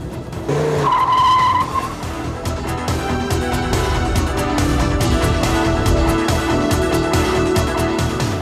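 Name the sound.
Viper race car tires skidding, running without oil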